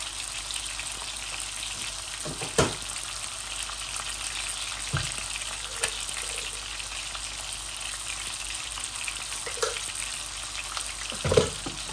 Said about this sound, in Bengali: এখন আমি এই চিনের টমেটো রাঁধতেছি